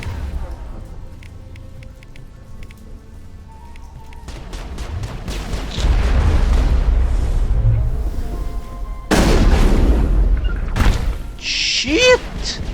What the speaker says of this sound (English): Holy shit, a grenade!